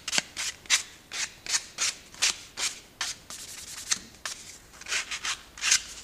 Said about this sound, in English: Take my little sander, polish up the edges.